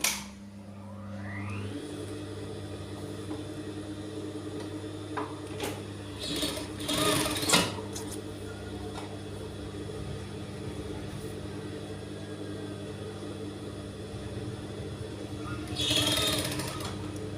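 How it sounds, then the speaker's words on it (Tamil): A sewing machine stitches along the folded edge of a handkerchief, starting up and then running as a steady, close mechanical whirr for most of the stretch, with brief handling noises. "இந்த மடிப்பு ஓரத்துலேயே தான் தையல் போடணுங்க"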